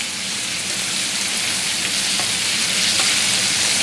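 Flour-dusted meat frying in a pan, a loud steady hiss of hot fat with a fine crackle that holds evenly throughout.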